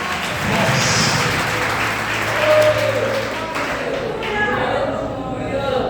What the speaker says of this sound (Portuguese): Pode aplaudir a Jesus mais forte.